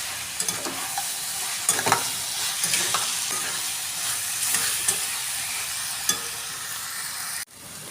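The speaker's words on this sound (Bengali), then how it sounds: "নেড়ে চেড়ে ভেজে নেব।" Taro stolons stir-fried in a pan with a roasted ground spice mix and sugar, a continuous sizzle with repeated scraping strokes of the spatula, ending in a sudden knock.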